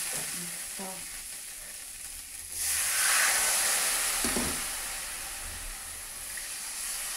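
Water hits a hot pan of tarka and bursts into a loud hissing sizzle that settles into steady frying. A spoon scrapes and stirs now and then, all heard up close in a home kitchen.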